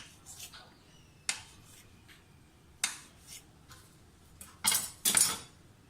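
A knife cutting dough into two-inch pieces for warqi poorian, heard as a handful of sharp separate chops and taps on a board, close by, ending with two louder clattering strikes.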